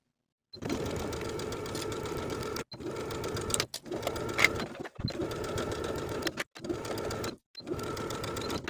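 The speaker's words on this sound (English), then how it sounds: "Now we're ready to sew the facing to the waistline with a 5/8 inch seam allowance." A sewing machine runs steadily, stitching a jumpsuit facing to the waistline with a 5/8 inch seam, in several continuous whirring runs broken by brief stops, moderately quiet and close, with no talking.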